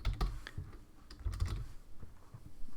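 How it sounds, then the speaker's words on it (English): Keys clacking on a computer keyboard during a spreadsheet demonstration, a few bursts of quick, irregular taps close to the mic, with no talking. "I will eventually find the F on my keyboard."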